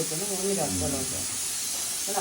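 Steady loud hiss of steam from an idli cooker running throughout, with a voice speaking briefly over it.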